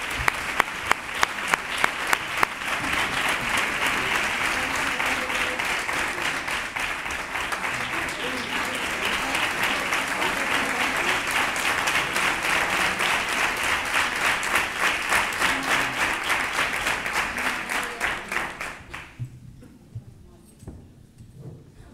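Audience applause at a Three Kings proclamation event in Nerva, sustained dense clapping from a crowd for about eighteen seconds before fading out, with some voices mixed in.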